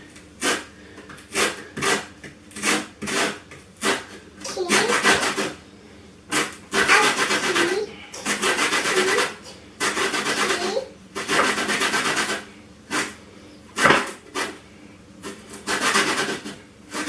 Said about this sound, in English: we're going to add the zest of 1 orange